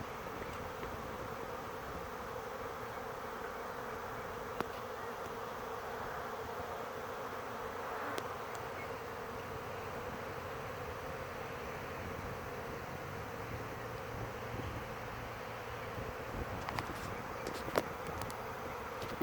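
A swarm of honeybees gathered on a tree limb outdoors gives off a continuous, even buzzing drone that holds steady throughout, soft and somewhat distant, with only a few faint clicks on top.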